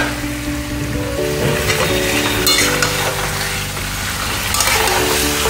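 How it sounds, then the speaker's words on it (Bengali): Chicken is sautéed in oil in a pan for biryani, a dense, close sizzle with scraping and stirring noises over a low steady hum, fairly loud and continuous. "চিকেনটা দিয়ে দেবো, এটা দিয়ে এবার কষা হবে।"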